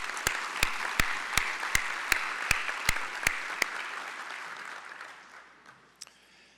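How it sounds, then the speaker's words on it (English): A conference audience gives a round of applause for the Patriot Employers of the Year at a business session, with dense clapping and a few louder individual claps standing out, fading away over the last couple of seconds. "Can please congratulate all of our Patriot Employers of the Year with one more round of applause."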